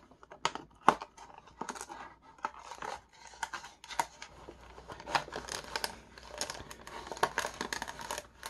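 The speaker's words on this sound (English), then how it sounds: "Let's go ahead and get this guy cut open off the card, shall we?" Knife slicing open the card-and-blister packaging of a Star Wars Vintage Collection Rebel Fleet Trooper figure, with close, uneven bursts of cutting, scratching and plastic crinkling, short pauses between strokes and no voices.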